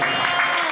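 A church congregation clapping in praise during a sermon, a short, dense burst of hands close by with a voice sounding over it.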